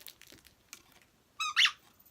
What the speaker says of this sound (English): So he squeaks.